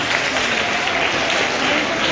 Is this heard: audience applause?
yes